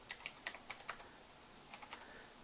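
Quick bursts of keystrokes on a computer keyboard, a dozen or so light clicks in uneven clusters with a short pause in the middle, close and fairly quiet against a faint background hiss.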